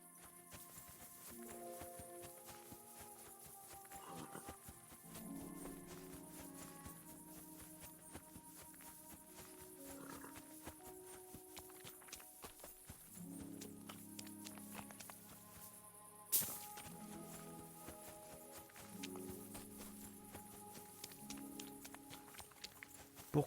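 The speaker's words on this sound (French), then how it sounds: "Par les plaies du Christ, le cheval! Il est bien là!" Steady clip-clop of a ghost horse's hooves at a walking pace in Kingdom Come: Deliverance II, over game background music, with a brief louder hit partway through.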